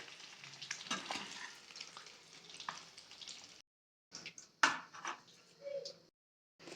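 Eggs fry in oil in a pan for an egg curry, a soft crackling sizzle with stirring scrapes, fairly quiet, broken by two brief silent gaps and a sharp clink.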